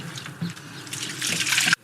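Water runs steadily from a tap to wash a small child, a close, continuous splashing stream that builds louder before cutting off abruptly.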